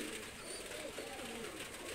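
A golden pigeon, one of a pair, coos softly and steadily at close range, low and muffled.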